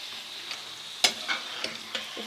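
Kaleji and heart pieces frying in a pan over medium flame, with a soft steady sizzle and several scraping stirs of a spoon, the loudest near the middle, close and alone without talk.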